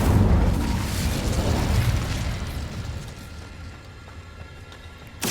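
A loud, booming burst of the Incendio fire spell in Hogwarts Legacy on PS4, rolling out from the start and fading over several seconds, with a fresh sharp blast right at the end.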